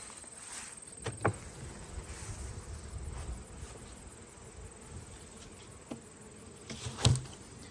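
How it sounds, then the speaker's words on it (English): A steady low hum of honeybees buzzing close by in an open hive in a 200-year-old house, with a few sharp knocks and clicks of frame handling scattered over it, no voices. "there's still some good volume of bees up here working these outside frames"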